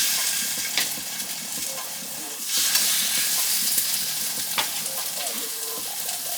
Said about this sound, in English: Now, on the very hot pan, we'll sizzle it.